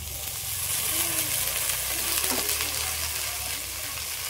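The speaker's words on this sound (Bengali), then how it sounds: "ভেন্ডিগুলোও দিয়ে দিচ্ছি।" Cut okra and potatoes frying in hot oil in a pan, a steady loud sizzle with a few stirring scrapes, close and continuous without talk.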